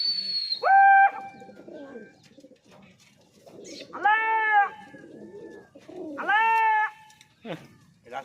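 Pigeons coo in three loud, drawn-out calls spaced a few seconds apart, with quieter rustling and background sounds in between, in a village setting.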